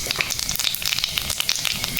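Nigella seeds hit hot oil for a village-style water spinach dish, bursting into close, busy sizzling with rapid crackles and pops for two seconds.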